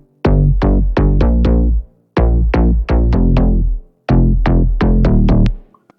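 Distorted, filtered synth bass from a Serum preset in a slap house style, playing three loud bursts of rapid plucked notes that jump between octaves, with short gaps between phrases and no voice.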